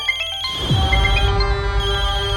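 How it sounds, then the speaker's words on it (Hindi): A mobile phone rings loudly and close with a bright electronic ringtone of sustained tones and a repeating melodic pattern, over a dense low background of music-like sound, with no speech. "जब मैं किसी को फोन करूं तो वो उठाता नहीं है, और अभी टे टे टे टे टे टे करके बज रहा है"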